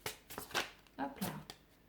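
Tarot cards are shuffled by hand in a series of short, crisp riffling bursts, close and fairly quiet, with faint speech around them.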